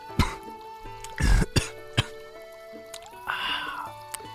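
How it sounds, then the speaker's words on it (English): A man drinks water in gulps, close to the microphone, with several separate swallows, a throat-clearing cough and liquid sloshing, over faint background music. "I'm gonna drink some water"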